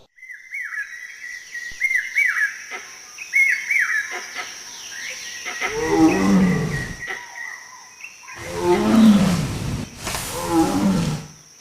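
A tiger resting under a rock shelter in a forest lets out several deep, loud roars in long repeated bursts, while birds chirp and call steadily in the background.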